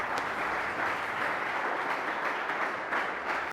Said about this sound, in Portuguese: Aplauda fortemente o nome do Senhor